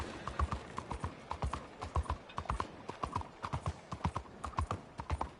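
A horse's hooves clip-clop in a quick galloping rhythm in Red Dead Redemption 2, steady, close and fairly loud, with no talking over them.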